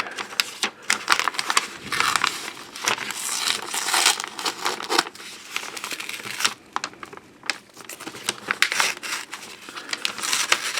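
Tape and plastic sleeves are peeled and crinkled off a 1975 British Virgin Islands proof coin set taped to paper, with continuous close crackling, tearing and rustling in uneven bursts.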